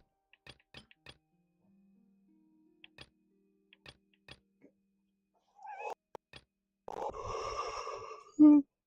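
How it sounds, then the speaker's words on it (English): Quiet ticking clicks, then a cat's meow near the end, followed by a short higher cry. "Meow."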